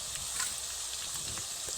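Bitter gourd chips sizzle steadily in hot oil for a short, quiet stretch with soft crackles and no one talking.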